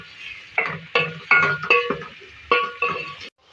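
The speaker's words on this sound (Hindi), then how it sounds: "अब इसमें 4 मीडियम साइज़ की कटी हुई प्याज ऐड करूँगी। इसको पहले हम फ्राई करेंगे।" Four chopped medium onions fry over a very low flame while a spoon stirs them in the pan, giving close clinking scrapes in irregular bursts over a soft sizzle, with no talk.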